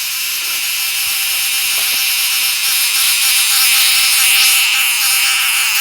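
A freshly caught cicada, held during a tribal-style cicada hunt, gives off a loud, continuous, harsh buzz that stays steady for several seconds and barely wavers, with no talking over it.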